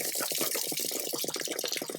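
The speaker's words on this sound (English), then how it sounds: "Be a little bit of water that's going to come out." Water drains from the plug opening of an Airstream travel trailer's leaking water heater: a steady, close, splashing gush of running water that continues without a break.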